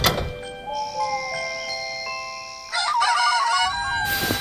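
A rooster crows in a long, strained call, followed by a second rougher crow, fairly close and without talk.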